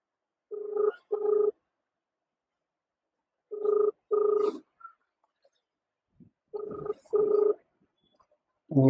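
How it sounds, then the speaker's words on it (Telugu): A mobile phone ringback tone repeats three times, each a double ring of two short buzzy pulses separated by pauses, clear and fairly close. "ఫోన్ చేసేద్దాం"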